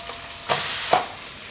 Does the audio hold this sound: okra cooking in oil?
yes